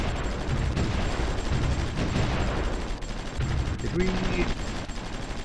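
Gunfire and fighting in the strategy game Supreme Ruler Ultimate, a dense continuous battle din of shots and rumble heard under a man's speech.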